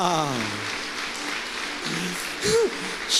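A church congregation clapping during a Sunday communion service, a steady mass of applause that runs under speaking and singing voices.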